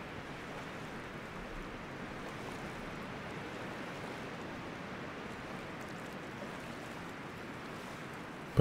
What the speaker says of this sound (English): Still, the lapping water of the loch was ever present.